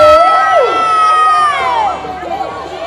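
A cheering squad at a Thai community sports event raises a loud, nearby chorus of shouts and whoops, with high sustained voices swelling and then easing off toward the end.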